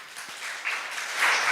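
Audience applause at a student talk, a steady wash of clapping that swells louder toward the end, moderately near with no voices over it.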